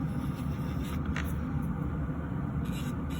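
A nail drill runs slowly, at about 8,000 RPM, while working hard skin around fingernails, giving a steady low motor hum close by with no breaks.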